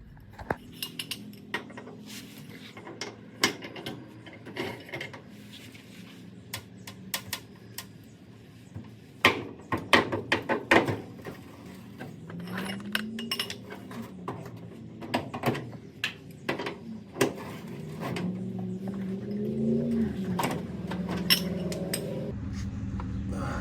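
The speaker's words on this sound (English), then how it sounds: "see if this will hold this square nut so we can hopefully break it loose" Metal tool clanks and scrapes against a stuck square nut on a Chevy C10/K10 front cab support, irregular sharp knocks and ratcheting taps over about twenty seconds, close and moderately loud, with no talking.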